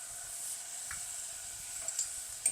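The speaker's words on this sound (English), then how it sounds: "I'm going to add 4 tablespoons of balsamic vinegar." Balsamic vinegar sizzling in a pan over browned onions, a steady soft hiss running throughout with a few faint clicks near the end.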